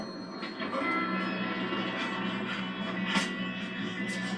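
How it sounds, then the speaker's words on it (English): A moving train in the Red Dead Redemption 2 game rumbles steadily and loudly throughout, with a continuous rolling clatter and some brief hissing bursts. "Come on, we need to stop this train."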